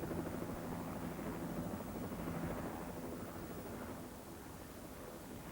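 A mountain rescue helicopter drones steadily overhead at an accident scene in Glencoe, a dense low rumble with rotor noise that holds constant throughout.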